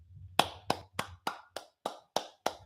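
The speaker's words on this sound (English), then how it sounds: "You got to get a round of applause for that, even if it is a golf clap level." Soft golf-clap applause: eight evenly spaced single hand claps, crisp and close, in a slow steady rhythm with short silences between.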